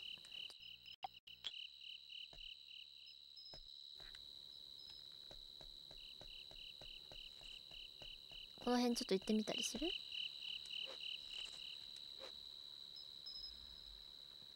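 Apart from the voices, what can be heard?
bell crickets chirping in the video game Boku no Natsuyasumi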